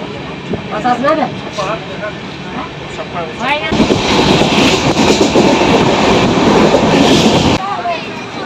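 A moving passenger train, first a quieter rumble under someone talking, then a sudden loud surge of rushing rattle and wind as the carriage noise swells before dropping back at the end.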